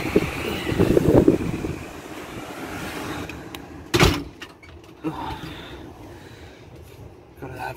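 Strong gusting wind roars outside a caravan at a beach in Carnarvon, Western Australia, loud at first and then easing, with a door banging sharply a couple of times.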